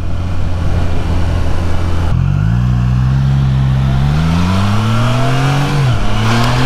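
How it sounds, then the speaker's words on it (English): A Triumph Trident motorcycle engine accelerates hard up through the gears, its rising tone broken by brief dips at each shift. The sound is loud and close, with steady wind and road noise under the engine. "so let's see what the bike's like at a bit of speed"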